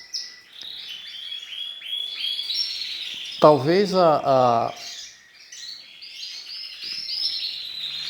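Domestic birds kept by a breeder chirp and tweet continuously at moderate distance, with a brief stretch of speech breaking in near the middle.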